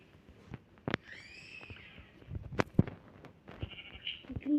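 Faint sheep bleats from a Minecraft game come through a quiet background of soft clicks and scrapes, with a couple of short bleating calls rising over the low noise.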